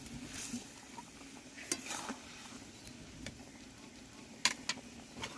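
Banana flower koftas bubble gently in boiling gravy, a soft steady simmer broken by occasional light clinks of a pot and spoon.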